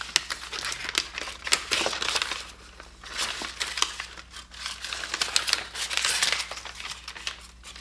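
Protective paper is peeled from AirPods Max headphones, with a steady run of close crackling, crinkling rustles and occasional sharper tears, nearly continuous and without talk.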